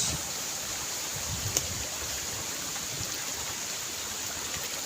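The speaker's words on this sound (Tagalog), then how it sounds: "agos ng tubig to galing sa bundok" Rushing mountain stream water flows strongly and steadily through a forest in Cavite, a constant close hiss and roar with no voices.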